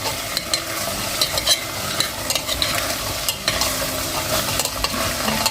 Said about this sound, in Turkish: Fasulyelerimi, süzdüğüm fasulyelerimi ekleyebilirim. Hafif bir karıştıracağım.